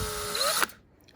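A cordless drill whirs briefly while backing a screw out of a CryoFX cold spark machine during repair, a close, steady high whine that rises in pitch and then cuts off abruptly into near silence.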